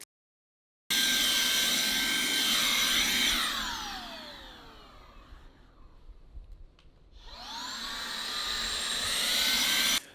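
A handheld vacuum cleaner whirs loudly, winds down to near quiet midway, then starts up again and runs at full pitch; no talking.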